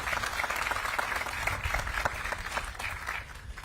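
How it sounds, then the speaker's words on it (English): Applause from a crowd at a government press event on Maui housing developments for fire survivors, dense steady clapping throughout, moderately distant, easing off slightly near the end. "So round of applause for them"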